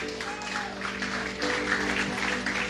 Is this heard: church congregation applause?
yes